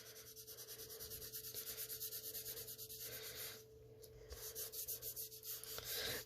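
A pencil shades on paper for a popcorn drawing in rhythmic circular strokes, a soft, faint, repeated rubbing scratch with a brief pause partway through.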